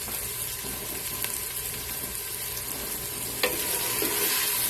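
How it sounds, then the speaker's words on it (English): Onion and garlic saute in a pan for a Greek pastitsio, giving a steady close sizzle and crackle. A few light scrapes from stirring sound partway through, and no one speaks. "We'll wait for our onion to saute."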